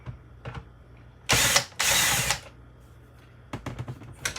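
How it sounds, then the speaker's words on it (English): Screws being driven into a Victron Lynx Power In distributor, heard as two loud, dense bursts of power-driver whirring followed by a quieter series of short clicking and tightening sounds, with no talking. "So first I'm going to screw these screws."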